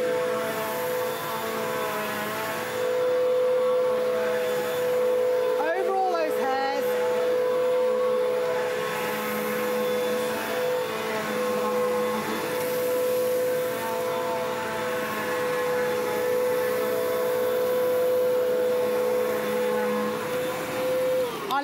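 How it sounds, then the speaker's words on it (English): An Electrolux upright bagless vacuum cleaner runs steadily on short-pile carpet with a constant motor whine and airflow hum, holding level throughout with a brief sweep-like shift partway. "It's not a noisy vacuum cleaner."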